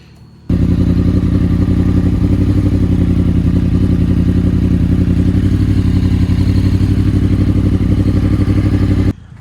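A Yamaha R1 motorcycle engine fires up after an oil change with its fairings removed, jumping from quiet into a loud, steady idle with a rapid throbbing pulse that runs several seconds before cutting off abruptly.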